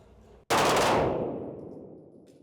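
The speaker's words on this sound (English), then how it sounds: "When your target appears, you're going to fire 1 round in 1 second" A single gunshot fired at a target during law enforcement academy firearms training, one sharp, loud, close blast that rings out into a long reverberant decay, with no talk.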